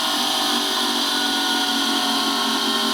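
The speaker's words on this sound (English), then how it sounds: "New grinder." A new angle grinder works steadily on hard, carbide-like metal of a custom rigid chopper motorcycle, a dense, continuous high whine with no pauses, loud and close, with no talking.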